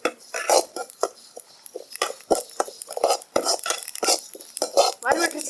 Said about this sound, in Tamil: சீரகத்தை வறுக்கும். நல்லா பொரியவும் எடுத்துடணும்.